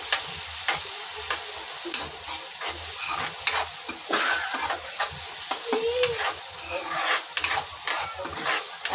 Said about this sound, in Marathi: याला पण आपण व्यवस्थित परतून घ्यायचं आहे, कांद्यामध्ये व्यवस्थित परतून घेतल्यानंतर